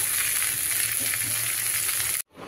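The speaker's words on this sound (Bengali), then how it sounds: "এখন মিষ্টি কুমড়াটা ভাজে নিতেছি" Sweet pumpkin frying in a pan at home gives a close, steady sizzle with faint stirring, then cuts off abruptly near the end before a softer return.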